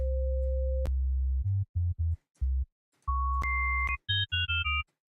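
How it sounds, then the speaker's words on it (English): Pure electronic sine tones for dubstep sub bass, starting with a sustained low pitch then jumping to higher steady notes, interrupted by short low buzzing bursts. "So basically this is like a 180 degree sine wave"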